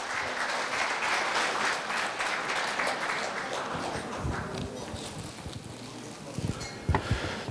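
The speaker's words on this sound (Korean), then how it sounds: "동문 여러분 큰 박수로 환영해 주시기 바랍니다." An audience at a Gwangju High School alumni association New Year gathering and general meeting claps loudly in welcome, a dense burst that gradually thins out, with a few scattered claps and murmuring voices near the end.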